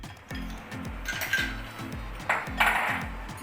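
Ice goes into lychee juice in a blender jar with loud clattering clinks and knocks up close, over a low repeating mechanical hum.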